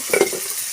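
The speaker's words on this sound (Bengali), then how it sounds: "মশলাটাকে ভাজা ভাজা হয়ে গেছে, এখন মাছগুলি দিয়ে দেবো" Spice paste fries in a pan, giving a brief close sizzle with a quick stirring scrape.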